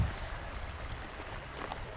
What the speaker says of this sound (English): it's like a little gross waterfall